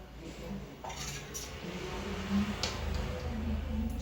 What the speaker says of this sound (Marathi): मी आता तुम्हाला एका प्लेटमध्ये काढून दाखवते